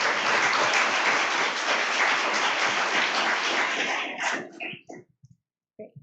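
An audience applauds panelists at a community dialogue, a dense sustained wash of clapping that thins into scattered claps and stops after about five seconds.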